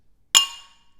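Single bright clink of beer glasses touched together in a toast, a sharp close ring that decays over about half a second in otherwise quiet surroundings.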